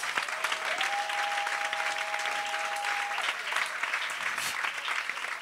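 A church congregation claps in steady, sustained applause, a full room of hands at moderate level with a held tone ringing through the first few seconds and a few voices faintly underneath.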